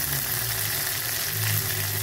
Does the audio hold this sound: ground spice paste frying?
yes